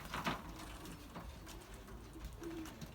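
Young pigeons coo softly outside a loft, low murmuring calls repeating under faint outdoor background, with a few brief patters of movement nearby.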